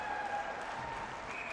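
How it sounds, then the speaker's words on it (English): Crowd at a college men's ice hockey game between Oswego and Buffalo State applauding and cheering, a steady, fairly faint wash of clapping and noise with a few whistled tones. "the crowd is cheering for Mary's minute of the second period"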